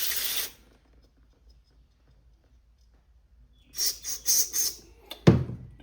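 Cleaner sprays in several short hissing bursts onto a pressure washer carburetor being cleaned, coming close after a long quiet pause, with a sharp clack at the end.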